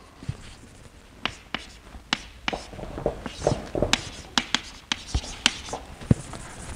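Chalk taps and scrapes on a board as an equation is written out during a physics lecture, a run of sharp, irregular strokes close up over quiet room tone.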